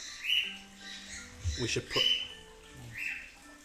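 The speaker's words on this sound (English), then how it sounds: "Sounds like my birds are fighting." Pet birds fighting squawk and chirp in a few sharp bursts, close by, with a muffled voice in between.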